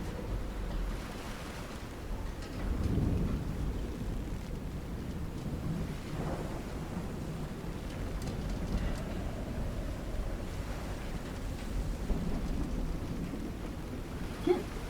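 Thunderstorm at sea in the Call of the Sea video game: a steady wash of rain and surf with low rolling thunder rumbles, heaviest around the third second, with no talk.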